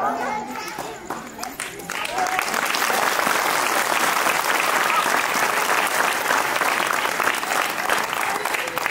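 A lecture audience breaks into applause that swells to a dense, continuous roar of clapping and holds steady.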